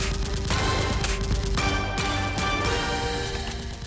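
Staged action scene with foam-dart toy guns, where crooks fire wildly at a SWAT team: dense, loud bursts of rapid popping gunfire-like effects that overlap with a layered music bed, with no talk.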